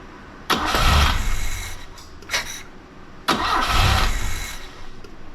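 A Fiat 124 Spider 2000 with a malfunctioning coil is cranked twice, each time with a starter whir that catches into a brief rough engine roar and then sags back. The sound is close and loud, with no talking.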